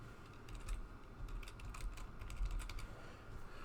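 Computer keyboard typing, with quick irregular key clicks close up but faint, running steadily throughout over a low room hum.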